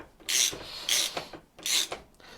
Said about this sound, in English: this draws the bearing, as you can see, it's drawing the bearing into the housing